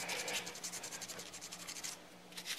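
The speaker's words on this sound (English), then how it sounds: "sandpaper wrapped around a popsicle stick. And that is working really well. It's cutting this." Sandpaper wrapped around a popsicle stick rubs back and forth on a brass rail in a steady, rapid scratchy rhythm, close and fairly quiet, with no voices.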